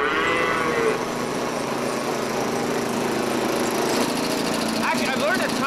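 Cattle on a farm where 40 cows are fed daily, lowing in long moos over a steady engine-like drone, with people talking nearby.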